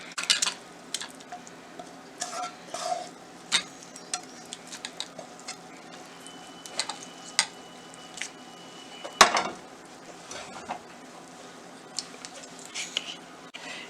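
A spoon stirs pre-fried chicken into a pot of buttermilk curry, making irregular scraping clatters and knocks against the metal over a soft simmering sizzle, with one sharper clank midway.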